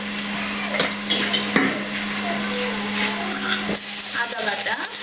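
Chickpea biryani ingredients fry in a pan with a steady, close sizzle and occasional stirring scrapes and clatter, plus a constant low hum in the background.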